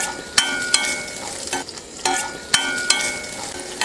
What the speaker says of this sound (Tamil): 10 பூண்டு பல் இதையெல்லாம் போட்டு வதக்கிக்கலாம்